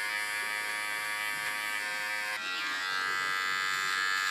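A small electric hair clipper buzzes continuously and close up while trimming the hairline contour of a short haircut, its whine shifting in pitch partway through as it meets the hair.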